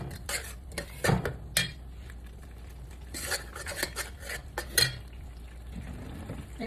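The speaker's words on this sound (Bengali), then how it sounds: "এখন আমি এটাকে ভালো করে নেড়ে চেড়ে কষিয়ে নিচ্ছি।" Beef biryani masala with garam masala powder is stirred and fried in a pot, with intermittent scraping and clanking of a spoon against metal over a faint sizzle.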